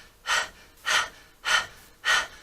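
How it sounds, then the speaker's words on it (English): Four evenly spaced, forceful breaths through the mouth for Kundalini yoga breathing, each a loud airy rush about half a second apart, close and alone without talking. "let's begin first with a breath through the mouth"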